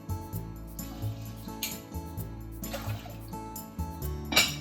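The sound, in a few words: water being added to rinsed rice in a pot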